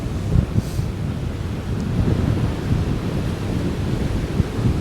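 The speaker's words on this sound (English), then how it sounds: "Oh, that wind is so strong." Strong December wind roars across the microphone on a stormy Highland coast near Achmelvich, with breaking surf behind it, loud and continuous with a few buffeting gusts.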